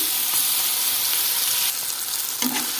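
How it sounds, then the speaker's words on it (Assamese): Spice paste of ginger, garlic, cardamom, cashew and poppy seed goes into a pan of frying onions, giving a steady loud sizzle with a brief surge of spitting as it hits the hot oil. "পিঁয়াজখিনি এইখিনি ভাজি হৈ গ'ল আৰু এতিয়া বনাই লোৱা পেষ্টখিনি ইয়াতে এড কৰি দিম"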